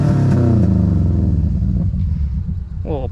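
A Subaru GC8 Impreza 2.5RS with a swapped engine, custom headers and a Megan Racing exhaust idles roughly and revs, its low rumble punctuated by a few small exhaust pops, with a brief higher burst near the end.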